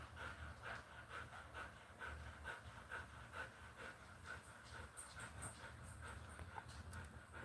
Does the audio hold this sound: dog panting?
yes